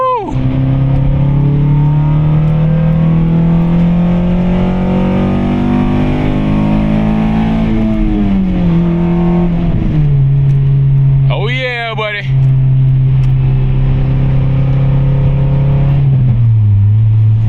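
A tuned car engine drones loudly as it accelerates through the gears, pitch climbing steadily, dropping at each shift, then settling into a sustained cruising hum, with someone talking briefly over it.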